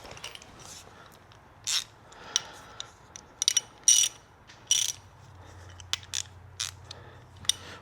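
A ratchet fitted with a deep socket being turned, giving short irregular bursts of clicking with pauses between strokes, close and fairly clear over a low background hum.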